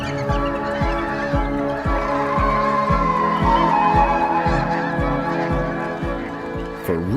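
A flock of geese and other waterfowl gathered together, honking loudly and continuously in a dense, rhythmic chorus of repeated calls, close and steady throughout.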